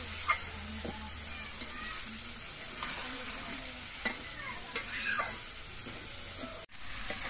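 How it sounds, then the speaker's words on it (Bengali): Fried potatoes are stirred with spices in a hot pan, giving a soft, continuous sizzle broken by light scraping strokes and a few clinks of the spoon. "আলুগুলো দিয়েও আমি অল্প একটুখানি সময় কষিয়ে নেব।"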